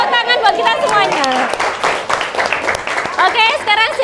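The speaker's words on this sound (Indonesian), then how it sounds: "tepuk tangan buat kita semuanya" A class of children gives a burst of applause, quick overlapping claps mixed with cheering and excited high voices, close and lively over a few seconds.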